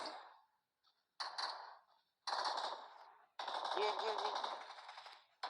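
Bursts of automatic gunfire from the mobile battle royale game PUBG Mobile come in rapid repeated volleys, separated by short gaps, loud and close, with a voice speaking faintly beneath.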